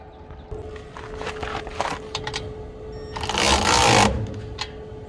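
Stretch bolts are taken off a broken trailer axle with hand tools, giving close metallic clicks and rattles, then a louder grinding burst of wrenching near the end.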